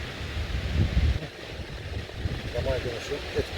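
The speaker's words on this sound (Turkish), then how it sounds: "O kadar rüzgar esiyor ki belki çekinme ses yapabilir" Steady wind buffeting the microphone with low rumbling gusts, while a voice talks faintly underneath.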